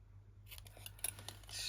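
Scissors snip through card for a herringbone quilted card, a few short, close crunching cuts in quick succession.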